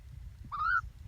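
A pet bird gives one short, clear whistling call that rises then holds steady, fairly close against a low background hum.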